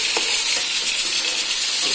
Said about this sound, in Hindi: अब मैं ये थोड़ा सा मसाले को भून लूंगा, इसकी तेजी को खत्म कर लूंगा।